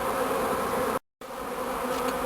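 Swarm of honeybees leaving the spot where it had clustered, a close, dense, steady buzzing with a brief cut to silence partway through before the buzzing resumes.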